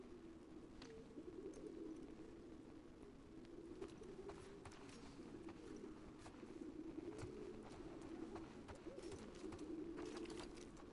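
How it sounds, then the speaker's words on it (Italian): Pigeons coo continuously in a pigeon loft in The Last of Us Part II, a low steady murmuring layer of many birds with occasional soft flutters and scuffs, close and sustained throughout. "Sono dei piccioni. È una piccionaia."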